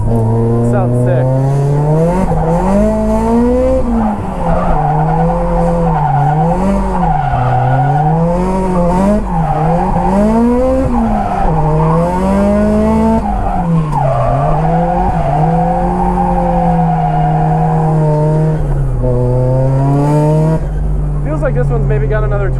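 Nissan S15 Silvia drifting at Nikko circuit, engine revving up and down in long wavering sweeps under constant loud tire squeal, heard close from inside the car, without a break.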